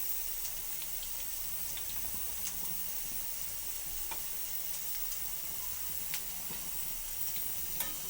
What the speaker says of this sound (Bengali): একটা একটা করে উল্টিয়ে লাল করে প্রত্যেকটা বড়া আমি ভেজে নেব